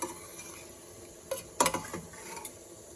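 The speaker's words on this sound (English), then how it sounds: "we have to mix these things together" Ingredients are stirred together in a pan with mustard seeds and podi, sounding as quiet scraping and a few sharp clinks of a spoon against metal, close by, over a soft sizzling background.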